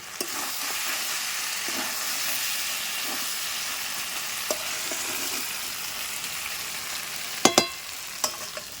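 Chicken masala sizzles steadily in a hot pan as it is sautéed, a broad, close frying hiss lasting throughout, with a few sharp metallic clinks of stirring near the end. No talking.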